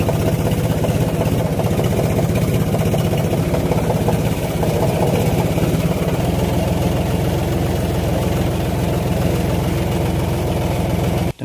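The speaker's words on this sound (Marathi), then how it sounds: "मित्रांनो, आता ट्रॅक्टर आपण इथं लावून दिलेला आहे" A tractor engine running parked in a farm field, a loud, steady close idle that chugs on throughout before cutting off abruptly at the very end, with no voices.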